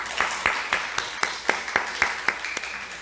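A small church congregation claps to welcome newcomers, a sparse, rhythmic run of distinct hand claps, roughly evenly spaced, in a fairly quiet room.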